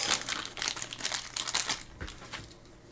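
A plastic bag holding small painted toy doll shoes crinkles and rustles close up as it is handled and opened, busy at first and then tapering off.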